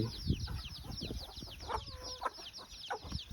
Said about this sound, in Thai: ป้อนให้ไก่ให้เป็ด